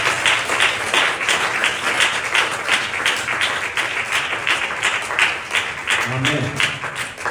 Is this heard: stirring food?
no